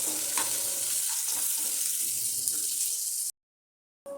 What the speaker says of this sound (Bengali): তেলের মধ্যে দিয়ে দিলাম যে পেঁয়াজটা আমি কুচি রেখেছিলাম দুটো সেই পেঁয়াজ দুটো দিয়ে দিলাম পেঁয়াজটা আমি একটু লাল করে ভেজে নেব